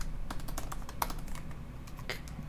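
Rapid keyboard typing while entering a Ruby on Rails query, a steady run of close, crisp key clicks with no talking.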